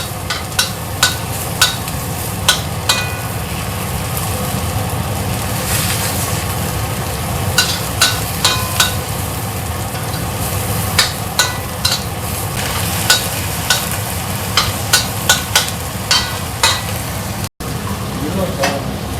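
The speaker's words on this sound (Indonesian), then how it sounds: "Ditumis dulu ya." Garlic and chili stir-frying in a hot pan give a steady, close sizzle throughout, with frequent sharp clicks and scrapes from a utensil stirring against the pan.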